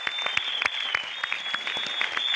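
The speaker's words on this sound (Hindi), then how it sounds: "मैं चाहूंगी एक बार जोरदार तालियां हमारी बुआ जी के लिए" Loud, steady applause from an audience at an indoor meeting, dense clapping with sharp individual claps throughout, no talking over it.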